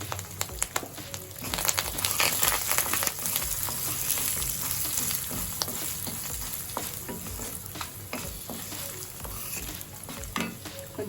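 Curry leaves crackle and spit in hot oil with dried red chillies, chana dal and seasoning seeds for a green chilli pickle tempering, a loud close sizzle with sharp popping bursts and stirring, no talk.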